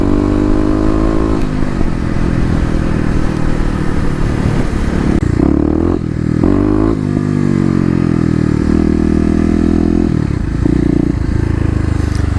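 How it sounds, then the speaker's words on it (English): A 2018 Kawasaki KLX250 dirt bike fitted with a Mega Bomb exhaust runs loud and close, its deep, thunderous engine note rising and falling through several rev changes and shifts, with no voices. "If I had to describe how the sound was changed with the Mega Bomb, I would classify it being more thunderous"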